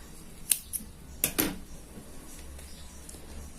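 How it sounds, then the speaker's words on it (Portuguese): Scissors trimming the yarn ends of a multicolored crochet flower keychain, cutting close to the stitches; a few quiet, sharp snips spaced apart over faint room noise. "Aqui eu corto essas duas sobrinhas, tá?"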